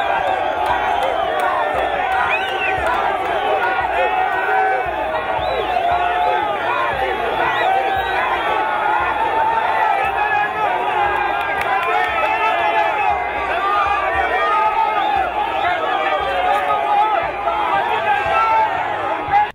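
A large outdoor crowd of party supporters, young and old, greets the president outside the airport in Kasenga with a dense, steady hubbub of shouting and chatter, loud and close for the whole stretch.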